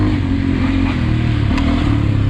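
A Beta 125 RR-S two-stroke dirt bike engine runs loud and close on a demo ride, holding a steady buzzing drone that dips briefly and picks back up, with a short clatter midway.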